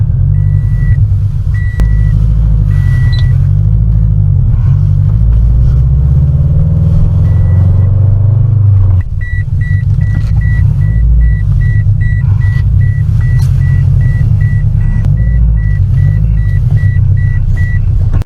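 Interior engine rumble and road noise from a modified Subaru BRZ cruising steadily, loud and continuous throughout, with a repeated electronic beeping chime heard at intervals and no talking.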